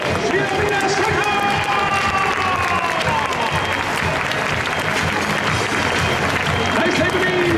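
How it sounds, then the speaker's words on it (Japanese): A baseball stadium crowd at a 2022 Japan Series game claps steadily and loudly, a dense, continuous wash of applause filling the whole stretch, with an announcer speaking over it. "さあ、それでは両選手、大きな拍手で送りましょう。"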